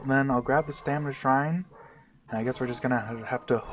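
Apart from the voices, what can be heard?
No everyday noise stands out behind the speech.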